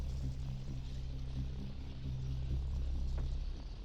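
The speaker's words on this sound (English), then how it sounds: "these blue helicopters really get in the fight here" Helicopters in the real-time strategy video game Line War, heard as a low, continuous throbbing rotor hum that stays steady and moderately quiet throughout, with no talking over it.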